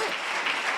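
A church congregation bursts into applause for Jesus, a dense, bright wash of clapping that lasts under a second without pause.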